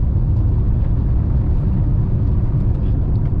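A car accelerates in fourth gear at around 40 km/h, a heavy, close low-pitched engine rumble that holds steady and loud throughout, without speech.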